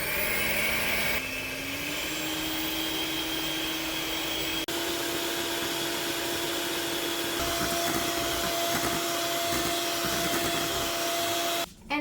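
An electric mixer blends eggs for cheesecake batter on medium to high speed, a steady loud motor whine running the full length with a brief change in pitch near the start and a cutoff at the end.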